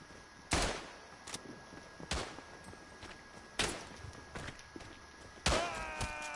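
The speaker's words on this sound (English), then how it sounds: "There's a guy shooting me behind as well" Gunfire in the WW1 shooter Tannenberg: several sharp, loud rifle shots spaced irregularly, each with a short echoing tail, the last one followed by a ringing tonal sweep.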